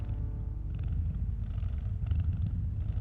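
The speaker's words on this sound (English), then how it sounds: "Oh, that is a loud kitty." Loud, steady purring from a cat in the video game That Dragon, Cancer, a continuous low rumble that runs unbroken and close throughout.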